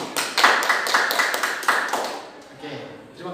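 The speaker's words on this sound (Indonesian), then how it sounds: "tepuk tangan buat kelompok 1" Students in a classroom clap for a group that has just finished presenting, a short burst of rhythmic hand claps that fades after about two seconds as a voice begins speaking.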